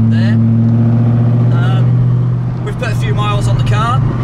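A 4.6 litre V8 with standard heads, a Piper Torque Max camshaft and a Weber carburettor idles steadily with a deep, continuous rumble, while someone talks over it throughout.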